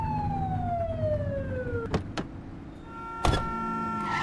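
A police car siren in the video game The Precinct, its descending wail tones sweeping over a steady engine rumble, broken by sharp bursts before the siren settles into a steady tone.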